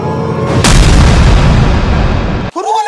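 A Diwali firecracker goes off with a single loud, close bang that trails into a long rumbling roar, followed by a brief voice.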